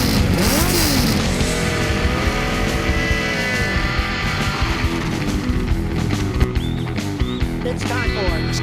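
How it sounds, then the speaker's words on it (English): An engine revving loudly with rising and falling pitch sweeps, close and continuous, mixed with music-like tones and a spoken voice at the start. "Rev up your engines!"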